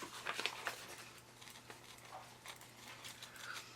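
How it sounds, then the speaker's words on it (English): Fiskars Teflon scissors cut through layers of fabric with faint, irregular snipping clicks, a few clustered near the start and others spaced out later, quiet and close over a low steady hum. "so I'm switching back to the Teflon scissors"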